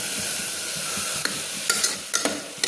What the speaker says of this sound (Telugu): కొత్తిమీర, కరివేపాకు అన్నీ వేసి మిక్సింగ్ చేసి కలుపుతున్న